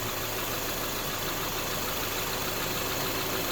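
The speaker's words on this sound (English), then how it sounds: "Now the RPMs of the engine change" A Subaru engine idles steadily during an air conditioning recharge, a dense, constant mechanical hum with no speech over it and only slight shifts in its pitch.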